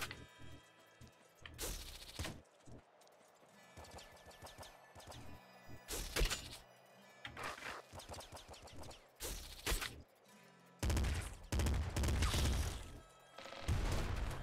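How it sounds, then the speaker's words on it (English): Bursts of rapid assault rifle fire in the Nuclear Throne action game, sharp clattering volleys in uneven clusters separated by brief gaps of quieter background effects. "assault rifle."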